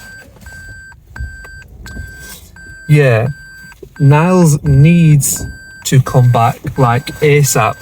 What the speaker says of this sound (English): That's like this vehicle is backing up style beeping